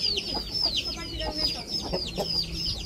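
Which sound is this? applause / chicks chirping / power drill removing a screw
chicks chirping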